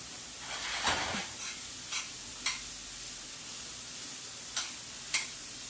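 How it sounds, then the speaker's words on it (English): Food for maple glazed salmon is stirred in a hot pan, giving a soft continuous sizzle broken by several sharp scrapes and clicks of a utensil against the pan. "we're just going to stir this. We don't really want it to brown on the bottom."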